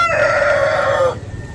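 A single Dekalb White ready-to-lay hen gives a loud, close, drawn-out call lasting about a second before it breaks off.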